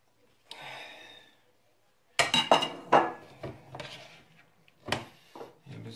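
A pan and metal utensils clatter and clink in a cluster of sharp, close knocks while chicken and vegetables are cooked, with a softer scrape beforehand and a breathy sigh.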